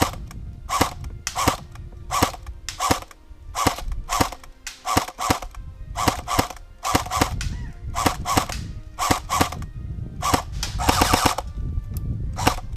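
An Umarex Tavor TAR-21 airsoft rifle on a 7.4 battery firing 0.2 BBs in a quick string of sharp, loud bursts and single shots, each a snappy electric crack with short pauses between.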